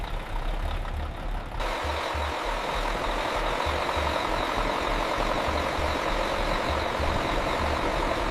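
Heavy tractor engine running with a steady deep rumble and rhythmic low thumping, loud and continuous with no voices.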